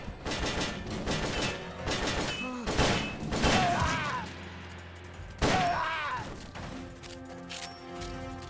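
Gunfire in Metal Gear Solid Peace Walker comes as several sharp bursts and thuds spread across the scene, mixed with game effects and voices talking over it.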